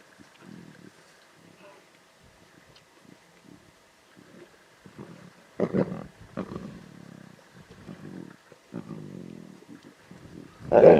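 Lion cubs snarl and growl in bursts of varying loudness over a zebra carcass, with deep rumbling growls and a sharp loud snarl at the end over faint wind.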